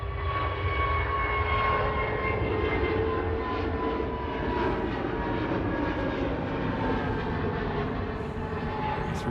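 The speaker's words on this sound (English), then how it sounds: "BA shuttle just departing." A British Airways shuttle jet departs Manchester Airport, its engines producing a steady, loud, broadband roar that holds throughout with a faint tonal whine layered on top, heard from outdoors.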